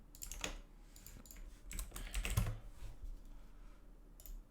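Quick bursts of typing on a computer keyboard, soft clustered keystrokes with short pauses between them, fairly faint and close with no talk over them.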